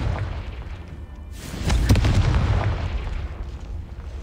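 Confringo blasting spell cast in the Hogwarts Legacy video game, a sudden booming explosion with a rumbling low burst that swells and decays over a few seconds, loud and close with no speech.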